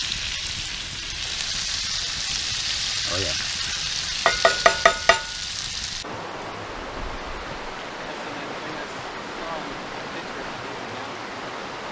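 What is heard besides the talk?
onions and potatoes frying in a cast iron skillet over a campfire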